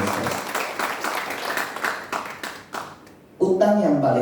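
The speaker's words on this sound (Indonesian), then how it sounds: "Tepuk tangan buat Tuhan Yesus." Church congregation clapping during a Sunday worship service, rhythmic claps close and fairly loud for about three seconds, then a voice takes over.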